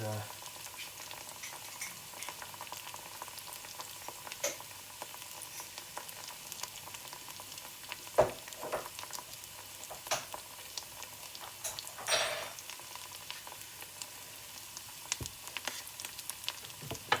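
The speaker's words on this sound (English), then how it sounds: "give that a stir" Meatball curry fries in a pan while being stirred, with a soft continuous sizzle broken by scraping and clattering stir strokes at irregular intervals, fairly quiet and close.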